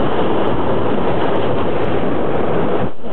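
A modulated sound effect imitating a crocodile surfacing from water, a dense rushing, watery roar that holds steady and loud for about three seconds, then cuts off abruptly.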